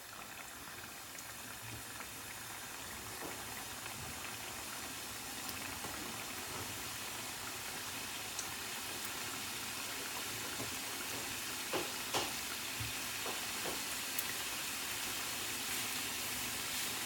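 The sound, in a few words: chebakia cakes frying in preheated oil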